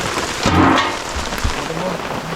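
Steady rain falls in a dense, even wash that holds throughout, with a few low thumps and a brief swell near the start; faint voices mingle in the background.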